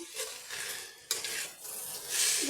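A spoon stirs bottle gourd curry with salt and turmeric in a pan, scraping and clinking over a soft sizzle, close and continuous, with no voices.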